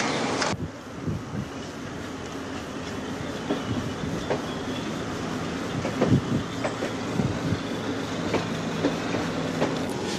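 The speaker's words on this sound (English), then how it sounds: "As the train begins its journey," A passenger train starts its journey with a steady rumble of rolling wheels, irregular clickety-clack over rail joints and brief metallic squeals, heard close with no voices.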